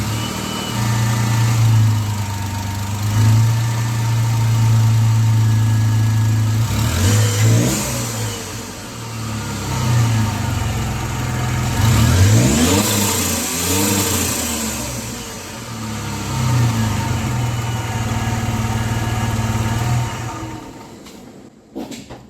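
A Jeep engine with a newly changed air filter idles steadily, then is revved several times, its pitch climbing and falling between steadier stretches, heard up close before cutting off at the end.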